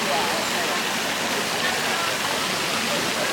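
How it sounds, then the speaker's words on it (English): Water from a dripping feature high above a pool falls and splashes steadily into the pool, a continuous dense patter and rush that stays even throughout. "one of the fun things about this pool is it has a dripping water feature"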